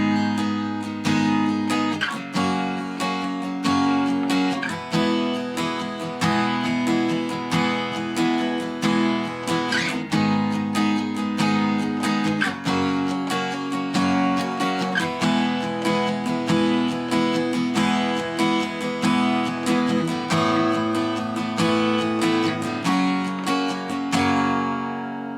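Steady strummed guitar plays a song at normal tempo, a full, continuous chord pattern with a regular strumming rhythm throughout, close and alone with no voices.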